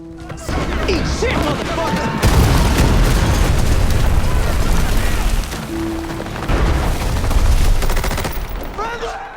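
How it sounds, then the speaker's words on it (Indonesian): Heavy gunfire in a film shootout set in an Afghan valley, rapid bursts and overlapping shots with crashing impacts, loud and continuous with brief lulls. "Baku tembak masih berlanjut dan semakin parah."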